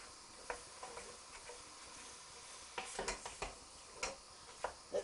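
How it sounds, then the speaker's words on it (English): Minced meat browning in a pan for Bolognese sauce is stirred, with a faint background sizzle and a series of light spoon clicks and scrapes against the pan, irregular and close, without talk. "So we're going to keep stirring till all the meats change colour."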